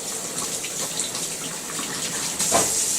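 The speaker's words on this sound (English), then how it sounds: "I don't know if you heard that sizzling sound" Wet heat-resistant cooking gloves sizzle inside a hot oven, giving a steady, hissing, watery crackle at close range that intensifies briefly toward the end.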